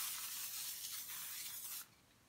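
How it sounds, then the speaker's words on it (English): A steady hiss of aerosol cooking spray onto parchment paper close up for nearly two seconds, then it stops abruptly. "I got a second sheet of parchment paper here, and I am going to spray it as well."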